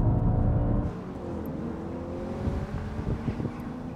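Audi RS4 accelerating hard off the line in a drag race beside an Audi B9, a loud steady engine drone with rising tone that stays close and continuous throughout, no talk.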